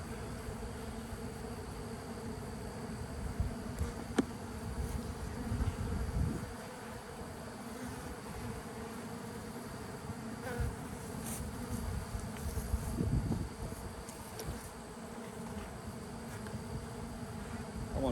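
A swarm of bees clustered on a mailbox, a constant close buzzing hum of many insects with occasional louder passes and a few soft handling knocks.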